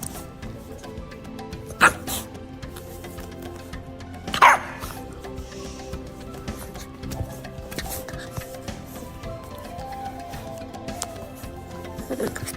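Dogs let out a few sharp barks and whiny yips, the loudest near the start and again a few seconds in, with softer whimpers scattered through a quiet room.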